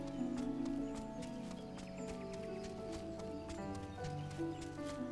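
Hooves of a chocobo mount running in Final Fantasy 14 beat a steady clip-clop rhythm under a busy layer of game music, with a faint whinny-like call partway through.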